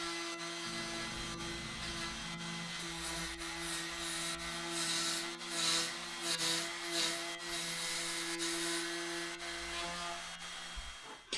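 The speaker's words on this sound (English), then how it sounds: "I'll take the file to all the edges" Hand file rasping along the edges of a wooden drill press table, a steady scraping and rubbing in repeated strokes, close and fairly loud, with no talking.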